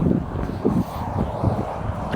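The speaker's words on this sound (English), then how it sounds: "Why is it so windy?" Heavy low rumbling buffets of wind hitting a microphone during an outdoor run, gusting unevenly throughout with a muffled roar.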